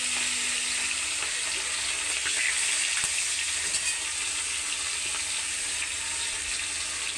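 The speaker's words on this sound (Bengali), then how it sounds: "দেখো আমি মাছটা ভেজে নেবো গরম হয়ে গেছে।" Fish frying in hot oil, a continuous bright sizzle with occasional sharper crackles and pops, steady and close throughout.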